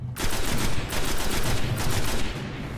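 Rapid automatic gunfire in the video game Destiny, a dense, loud stream of shots with brief pulsing bursts running almost unbroken from start to finish.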